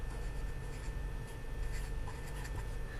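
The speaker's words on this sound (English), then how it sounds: "I'm going to write the word log." Pen or marker scratching steadily across a surface while writing the word log, a continuous close scribbling texture under a low room hum.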